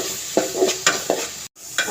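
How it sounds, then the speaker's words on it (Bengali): Turmeric, coriander and ginger frying together for an alu begun chingri dish, close sizzling broken by several sharp scraping strokes of a spoon stirring the pan, with a brief dropout near the end. "মশলাটা ভাজা হয়েছে"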